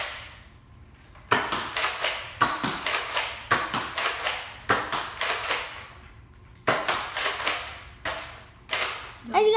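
Nerf Zombie Strike Slingfire blaster firing foam darts, a series of sharp snapping clicks in irregular bursts of several shots with short pauses between, close and fairly loud, no talking.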